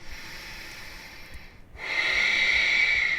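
Deep breathing during a yoga chair pose: a soft, airy breath, then a brief pause and a stronger, longer hissing exhale or inhale, close and unaccompanied by speech.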